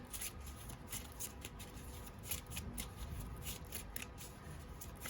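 Tarot cards being shuffled by hand, a soft continuous riffling and flicking of card stock close by, with a steady low background hum underneath and no talking.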